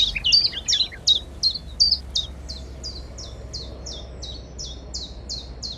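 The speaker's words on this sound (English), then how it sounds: "The chiffchaff sings a chiff, a high sound, then a chaff," A chiffchaff sings its repeated two-note phrase, high then low, in a steady series of about twenty crisp notes, clear and fairly close against quiet background hiss.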